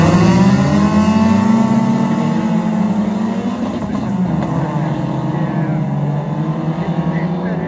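Loud racing car engines roar past close by at a motor race in Arboga, Sweden, rising and falling in pitch as the cars accelerate and pass, with a constant heavy drone throughout.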